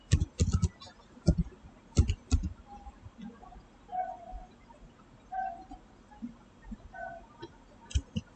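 Typing on a computer keyboard, with sparse irregular clusters of clicks and taps, quiet and close, with pauses between bursts.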